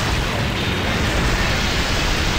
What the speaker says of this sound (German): Alles explodiert, ich fliege weiter drauf.